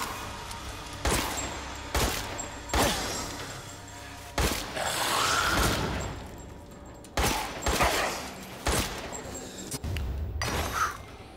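Repeated gunshots in Resident Evil Village fire at irregular intervals, each a loud sharp crack with a short decay. About a dozen blasts come in clusters over a steady game background, with a faint voice now and then.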